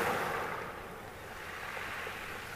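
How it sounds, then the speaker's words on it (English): Ocean water draining back from round lava rocks on a shore, a soft steady rushing wash that is strongest at first then settles into a continuous gentle hiss, alone without voices. "if you hear that sound, when the water drops back from the lava rocks"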